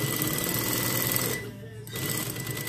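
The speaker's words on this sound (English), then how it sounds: "And you're gonna sew again with a half inch seam allowance" A sewing machine runs steadily as it stitches a half-inch seam on a dress bodice, a loud close mechanical whir with one brief pause before the motor picks up again.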